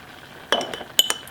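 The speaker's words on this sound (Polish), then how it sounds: "Łyżeczkę skrobi rozrobię z dwoma łyżkami wody." A teaspoon mixes starch with water in a glass, giving a few sharp, bright clinks close by after a quiet start, with no talking.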